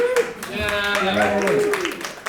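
Scattered claps from a theatre festival audience ring out under a voice as he speaks, with separate sharp hand claps throughout a couple of seconds.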